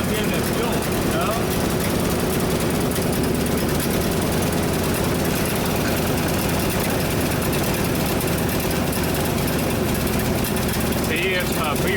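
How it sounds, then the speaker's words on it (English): Ford F-600 dump truck engine running rough with a vacuum leak, a loud continuous low rumble with uneven knocking pulses, heard up close and steady throughout. "Oh, that sounds like a vacuum leak from hell."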